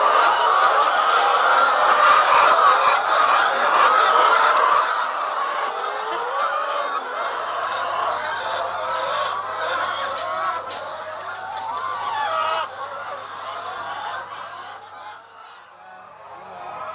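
Laying hens cluck and chatter steadily in a poultry coop on an egg farm, a dense, close flock sound that carries on without a break throughout.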